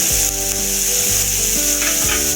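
Carrot, beetroot and coriander leaves stirred in a hot pan for tomato soup, a loud continuous sizzle with scraping spoon strokes throughout, no voices.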